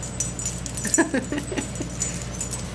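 A puppy gives a few soft, brief whimpers close by, mixed with light jingling and rustling in a quiet room.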